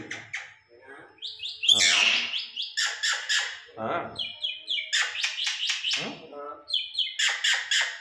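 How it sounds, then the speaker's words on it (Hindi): Myna birds kept with a household parrot family give loud, close squawks and chirps in repeated bursts, with a short human exclamation among them. "ये सारी मैना की आवाज़ है"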